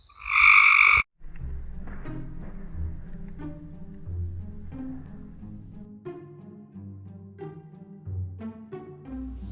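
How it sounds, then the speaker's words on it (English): A brief loud croak opens, followed by a continuous chorus of lower, rattling frog calls that go on without talking. "Y'all hear these frogs? Just listen to them."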